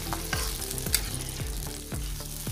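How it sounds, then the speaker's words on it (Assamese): Assamese fish curry being stirred in a frying pan, with steady sizzling and a series of regular scraping strokes of a spoon against the pan, close and fairly loud. "এতিয়া ভালদৰে আকৌ লৰাই দিব"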